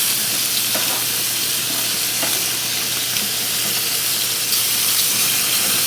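Pork chops sizzle and spit on a grill as fat drips down into the cooker, a steady dense crackle with no talk.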